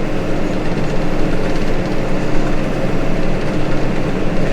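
Case Maxxum 150 tractor running steadily while powering a dung spreader, a loud, close, continuous low engine drone with no breaks.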